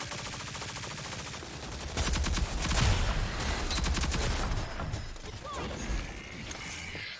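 Gunfire in the online shooter game Rogue Company, with rapid, dense bursts of shots. A loud, heavy volley of close fire runs through the middle, with lighter popping before and after.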